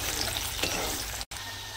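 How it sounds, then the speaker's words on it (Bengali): Potatoes fry in oil that was already used for frying paneer, a steady close sizzle filling the clip with a brief cut near the end. "আলুগুলোকে লাল করে ভেজে নেবো আমি।"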